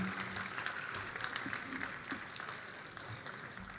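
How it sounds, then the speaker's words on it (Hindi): Steady applause from the audience at a mushaira in Dubai greets a poet, a dense wash of clapping that holds at an even level from start to end. "आपकी बहुत सारी तालियां राकेश तूफ़ान साहब के लिए"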